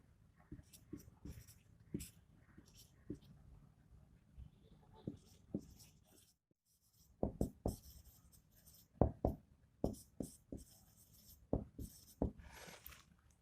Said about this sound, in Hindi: उस क्वेश्चन को लिख रहा हूं मैं